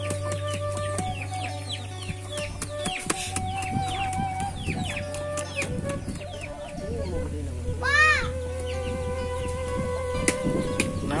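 Village chickens cluck and a rooster crows amid a busy outdoor scene, with steady clucking over a constant low hum and people talking nearby.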